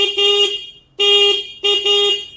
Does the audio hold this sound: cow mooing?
no